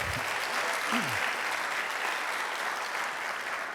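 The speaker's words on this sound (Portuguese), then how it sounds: "Você pode aplaudir para eu pensar que você está gostando?" A conference audience at a Christian church event claps steadily after a sermon prompt, dense applause filling the room at an even level for several seconds, with a brief vocal exclamation near the start.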